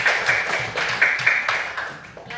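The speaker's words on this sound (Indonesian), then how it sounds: "Oke, tepuk tangan untuk TF" A group claps hands in unison, a steady run of about eight close, even beats that fades at the end, with no talk over it.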